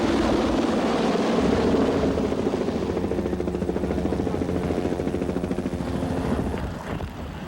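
A medevac helicopter flies away from a tornado disaster scene in Edmonton, carrying critically injured people, with a loud, steady rotor thrum and a dense engine roar that stay strong throughout, easing only slightly at the end, with no voices.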